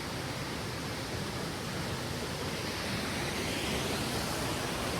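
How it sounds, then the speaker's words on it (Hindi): A fast-flowing mountain stream on the Madhmaheshwar temple trek rushes with a steady, unbroken broadband roar, close and constant with no other sounds. "देखो बहुत सुंदर पानी की आवाज़ अगर आपको आ रही है तो आप इसी से अंदाज़ा लगा सकते हो कि पानी का बहाव कितना तेज़ है।"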